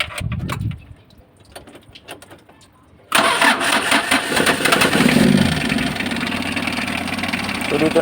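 A Mitsubishi L300 van's 4D56 diesel engine, after a cylinder head replacement, cranks and catches suddenly after a few quiet seconds of small clicks, then settles into a loud, steady, rattly idle close by.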